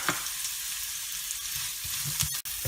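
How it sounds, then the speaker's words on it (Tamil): Ginger frying in lightly heated oil for a chutney, a soft steady sizzle with several faint stirring taps and a brief cut near the end, no talking. "எண்ணெய் லைட்டாக ஹீட் ஆனோன்னா முதல்ல இஞ்சியை வறுத்து எடுத்துக்கலாம்."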